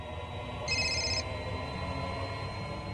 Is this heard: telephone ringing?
yes